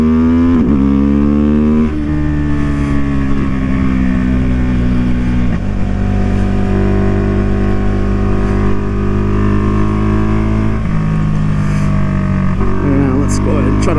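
A Husqvarna Vitpilen 401 motorcycle engine accelerating through the gears, loud rising revs with stepped shifts between pitches, continuous and close, with a rider talking over it.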